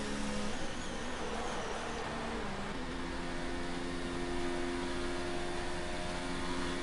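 Ferrari Formula 1 car in F1 2019 crossing the finish line at the Azerbaijan Grand Prix at Baku, a steady high-pitched engine whine over constant broad noise, with no voices.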